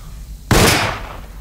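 A single loud gunshot from the Alone in the Dark video game cracks after a moment of quiet and decays into a rumbling tail over about a second.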